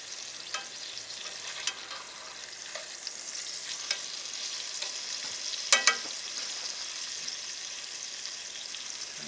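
Food sizzles in a pan at a basecamp cookout, a steady close hiss with light scrapes as pieces are flipped and a sharp double clack of a utensil midway, with no voices.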